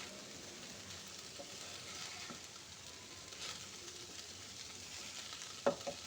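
Chira biryani of flattened rice being stirred in a pan as salt and sugar are mixed in, with a soft, steady sizzle and faint scraping, then a brief louder knock of the spoon near the end.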